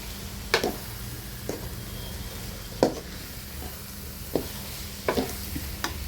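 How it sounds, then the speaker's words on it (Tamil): Chili powder stirred through garlic pickle frying in a pan, a low steady sizzle broken by several sharp scraping knocks of the spoon against the pan at irregular intervals, close and alone. "மிளகாத்தூள் வந்து நல்லா எல்லா பக்கமும் ஒன்றோட ஒன்று மிக்ஸ் ஆகணுங்க"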